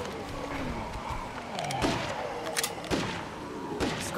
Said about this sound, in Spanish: Vamos a ir rápido, que estoy oyendo ya disparos.